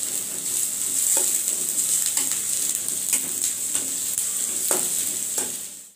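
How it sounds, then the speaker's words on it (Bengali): Chopped onion crackles and sizzles in hot oil, a steady close frying hiss broken by several sharp stirring scrapes, fading out at the end with nobody speaking. "তেলটা গরম হয়ে গিয়েছে, এখন পেঁয়াজ কুচি দিয়ে দিব। পেঁয়াজটা হালকা করে ভেজে নিব।"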